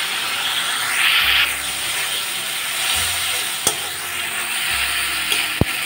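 Spice paste stirred and fried in a pan for stuffed Kashmiri-style potato dum, with steady loud sizzling and spoon scraping, a few sharp clinks, and occasional low bubbling underneath.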